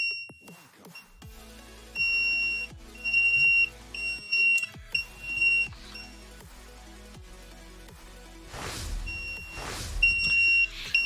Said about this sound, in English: What's beeping at the moment is the Sky remote.